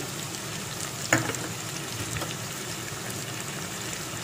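Onion paste drops into hot oil in a frying pan while a fish curry is being made. A brief thump and crackle rise out of a steady, close sizzle that carries on alone.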